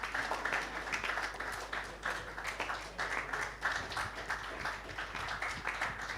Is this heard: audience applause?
yes